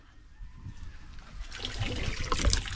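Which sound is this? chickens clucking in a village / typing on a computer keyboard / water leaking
water leaking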